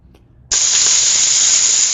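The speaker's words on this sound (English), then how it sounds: "I'm stir frying some vegetables, and that sound and that smoke is really what you want" Vegetables hitting a hot 14-inch carbon steel wok for a stir fry, an abrupt loud sizzle that starts after a short quiet moment and holds as a steady, close hiss.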